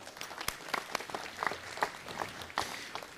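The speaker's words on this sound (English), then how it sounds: "Let's give them a round of applause." An audience at a city council meeting applauds steadily, many hands clapping together at close range for a few seconds, with no voices over it.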